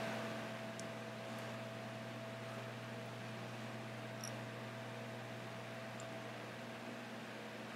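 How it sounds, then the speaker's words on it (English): An electric fan blows in a room on a hot day, a steady, even whir with a faint tonal hum that runs unbroken throughout, with no voices. "You'll have to excuse like the fan blowing."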